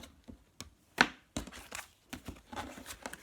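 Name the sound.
shuffling tarot cards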